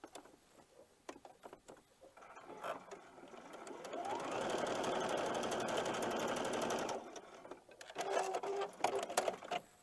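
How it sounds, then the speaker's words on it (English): A sewing machine stitches scrappy poinsettia quilt block fabric in one sustained, steady whirring run of about four seconds, close by and fairly quiet, with soft handling clicks and rustles before and after. "Let me sew this."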